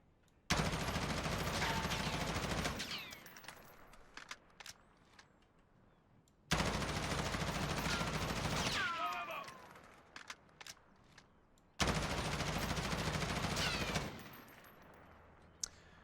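M4 rifle fitted with an M16 stock firing in the video game Warzone, three long full-auto bursts of close, loud gunfire separated by quieter gaps with faint footsteps and handling noise.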